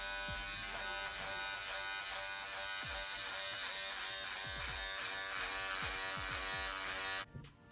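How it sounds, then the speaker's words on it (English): Electric hair clippers buzz steadily and close up for about seven seconds, a constant bright hum with small shifts as they move, then cut off abruptly near the end. "Listen, I don't want to do any more with the clippers."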